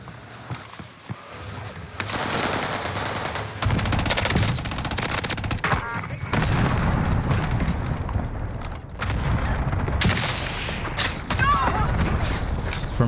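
Heavy sustained gunfire in a Warzone match with the FFAR 1 rifle, loud overlapping bursts and booms that run nearly throughout, with voices briefly heard amid the shooting.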